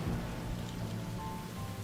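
In the sailing survival game Windbound, steady rain hisses over a deep rumbling thunderstorm, a continuous moderately loud wash of weather with no voices.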